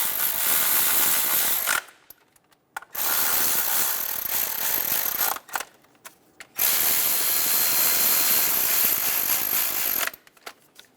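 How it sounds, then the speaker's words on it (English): Ratchet wrench snugging valve cover bolts on a 2003-2007 Honda Accord 3.0L V6, three bursts of close, loud rapid clicking separated by short pauses. "Snug the bolts down."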